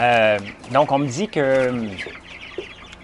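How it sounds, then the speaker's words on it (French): A rooster crows on a grain-fed chicken farm, a loud drawn-out call at the opening, and someone speaks French around it. "ça, c'est le coq, hein"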